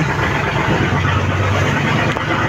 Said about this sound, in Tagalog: dalawang makina ang pinaandar ni Kapitan dahil kung ang isa lang parang hindi makaabante